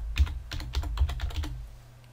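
A computer keyboard being typed on to enter a folder name in Windows 10, a quick burst of about a dozen close, crisp key clicks that slow and stop, with no talking.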